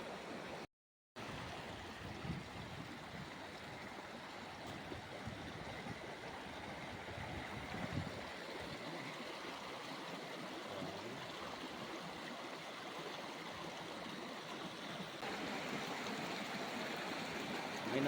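River stream on a mountain, flowing past watercress growing along its bank, with a continuous, moderately quiet rushing and gurgling of water throughout and no voices.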